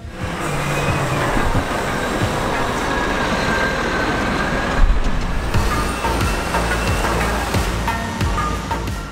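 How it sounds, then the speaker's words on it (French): A Cat 966M wheel loader works at a construction site loading mountain gravel, giving a loud, steady, broadband engine and machinery roar with a brief heavier thump midway and no voices. "il s'agit de la plus grande chargeuse sur roue de Cat homologuée pour la route en Allemagne"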